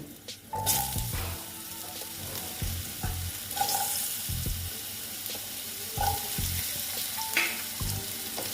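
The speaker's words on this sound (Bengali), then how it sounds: "আলুগুলো দিয়ে আলুগুলো ভেজে নেব" Potatoes fry in a pan for a radish ghonto, a bright, close sizzle with repeated scraping stirs and occasional clinks of a spatula against the pan, continuous with no talking.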